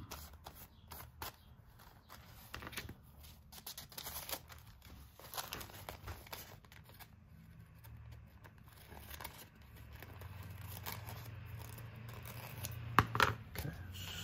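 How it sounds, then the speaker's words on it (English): Scissors cut a sheet of paper in half for an artist trading card wallet craft, with a run of close, quiet snips and crinkles over a long stretch and no talking. "I can just cut it in half."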